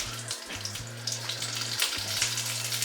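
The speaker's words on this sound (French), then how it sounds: "l'huile est chaude. Je mets une petite tomate provençale." Small Provençal tomatoes fry in hot oil in a pan, giving a steady close sizzle and crackle under a low, pulsing background hum.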